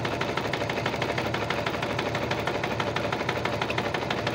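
Fast, steady mechanical stitching from a sewing machine running continuously at high speed, close up, with no talking.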